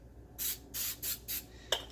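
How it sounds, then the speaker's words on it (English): Four short hissing bursts of coconut cooking spray into a small egg-sized pan, evenly spaced and close, then a small clink at the end. "I have an egg-sized pan here and some coconut cooking spray"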